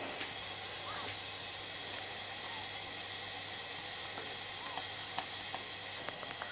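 Chili flakes briefly sautéing in a pan, heard as a steady, dense hiss and sizzle throughout with faint scattered crackles.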